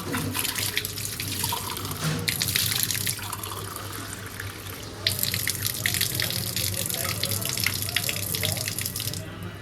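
Tap water runs steadily into a sink while a drinking glass is rinsed under it, a close, continuous splashing stream that swells louder in bursts as the glass fills and is emptied.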